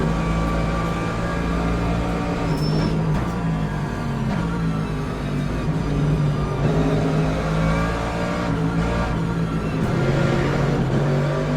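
Mercedes-AMG LMGT3 race car engines drone and rev around the Spa circuit in the Le Mans Ultimate racing game, a steady loud engine tone rising and falling with gear changes, with no talking.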